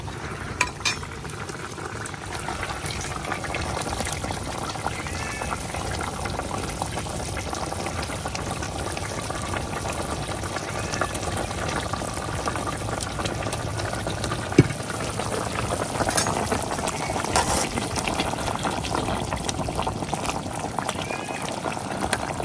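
Pabda fish curry with green papaya bubbling at a strong boil in a pot, a steady dense simmering hiss and gurgle throughout with faint background noise and no talk.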